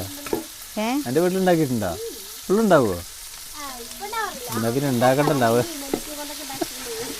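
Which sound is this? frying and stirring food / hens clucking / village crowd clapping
frying and stirring food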